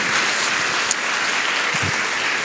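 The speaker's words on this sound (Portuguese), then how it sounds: "Você pode aplaudir o Senhor Jesus?" Church congregation applauding during a Portuguese-language sermon, a steady continuous hiss of many hands clapping at an even level throughout, with no voices.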